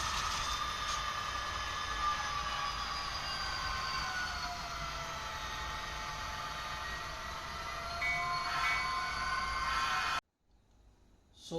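A model train locomotive's sound effect hums with tonal whistle-like overtones under a constant hiss, then cuts off abruptly near the end.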